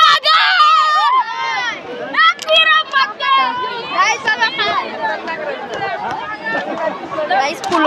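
Busy Sunday crowd at a temple, a dense murmur of many voices with children's chatter and shouts, close and continuous, with nearby talk over the din.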